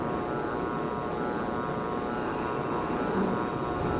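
Steady roar of a fighter jet engine in the Strike Fighters 2: Vietnam flight simulator, a continuous droning hum at constant level throughout, with no talk.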